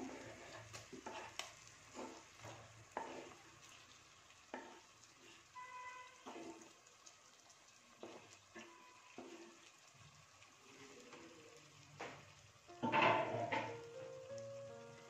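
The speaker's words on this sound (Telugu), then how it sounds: "ఇప్పుడు దీనిలో టమాటోస్ వేస్తున్నాను" Tomatoes drop into ginger garlic paste frying in a pan, with faint sizzling, scraping stirs and clinks of utensils on the pan, and a louder burst near the end, close and quiet, without talking.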